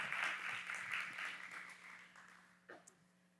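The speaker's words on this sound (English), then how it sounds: "So certainly huge applause to Josh and Mike with Cavid." Applause from an audience at a Christian leadership summit, a broad steady wash of clapping that fades over a few seconds, fairly faint and distant with a steady low hum beneath.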